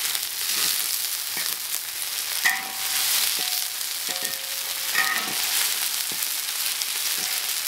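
Eel stir-fries in hot oil in a wok, a steady, fairly loud sizzle broken by scraping spatula strokes.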